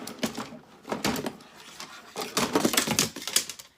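Brother Innovis NQ1600E embroidery machine stitching nearby, a rapid mechanical clatter of needle strokes in uneven bursts with brief pauses, fairly quiet and heard on its own.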